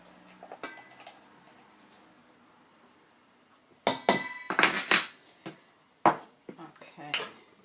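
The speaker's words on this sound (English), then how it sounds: "I'm just going to mix this up a little bit with the whisk, just to combine all the dry ingredients." A whisk clatters in a bowl of dry baking ingredients, flour with baking soda, salt and cinnamon for a low-fat peach banana bread, giving several quick bursts of scraping and clinking after a quieter start.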